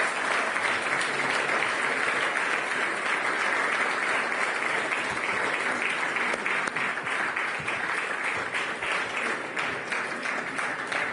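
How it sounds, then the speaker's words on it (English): Audience applause fills a conference hall at a central banking forum as finalists join the stage, a steady, moderately distant wash of many hands clapping without a break. "I would like to ask you, yet again, to applause, because the finalists are going to join me on stage"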